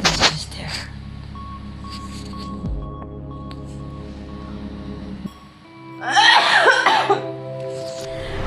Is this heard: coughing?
yes